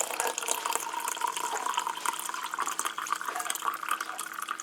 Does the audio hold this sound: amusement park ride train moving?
no